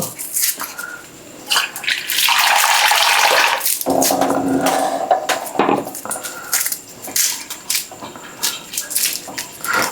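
Tap water runs and splashes in a home kitchen as vegetables are rinsed, with a loud steady gush that breaks off, then returns as choppier splashing and light clatter.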